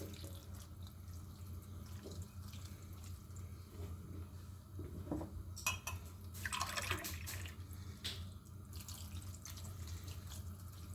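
Water is poured from a glass into a pot of stuffed zucchini flowers; a faint, steady trickle and splash with a low hum underneath and a brief louder gush partway through.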